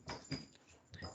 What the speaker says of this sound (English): Those dogs. I know they're driving me bonkers.